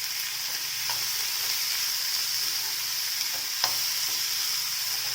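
Onions, a generous amount, fry in a pan with a steady close sizzle and soft stirring scrapes throughout, plus one brief clink near the end; no talking.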